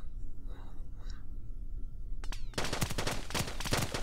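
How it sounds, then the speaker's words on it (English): A Vulcan cannon fires in Kerbal Space Program with the BD Armory mod, a loud rapid burst of dense automatic shots after a short quiet lead-in with faint whispery noise. "the Vulcan doesn't do much damage per shot. It just saturates an area with lots of bullets."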